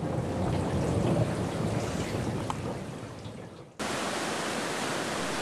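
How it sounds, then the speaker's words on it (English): Heavy rain drumming steadily at night in a Cambodian jungle, a dense, loud hiss of downpour with faint distant rumbles, briefly dipping before resuming at full strength. "Warm and dry in my hammock, the drumming of the rain soon sends me to sleep."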